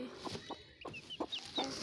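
A hen clucks in short bursts several times, close by and fairly quiet, in a village chicken house where she has hatched chicks.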